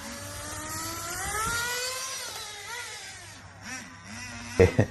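A new nitro-powered RC car engine runs at full throttle, a loud, high-pitched whine sweeping up and down in pitch through a few revs before several sharp pops near the end.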